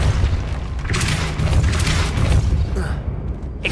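A Depulso spell cast in Hogwarts Legacy, a loud booming magical blast with a deep rumble and bright crackling bursts that holds steadily through the moment, with a voice calling out over it.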